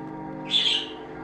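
A single short, bright chirp from a budgerigar, fairly faint over a low background hum.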